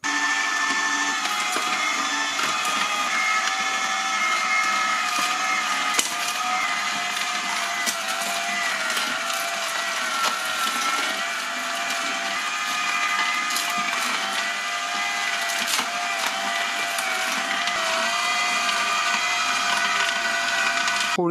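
A loud, steady whirring drone from an AMZCHEF juice extractor pressing cucumber, carrots and parsley, with grinding and crunching that swells and eases as pieces feed through, running continuously without talk.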